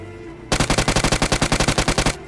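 Rapid automatic gunfire in a mobile battle-royale shooter, about seventeen evenly spaced loud shots in a quick burst lasting under two seconds, coming from a nearby compound behind the player, with no talking.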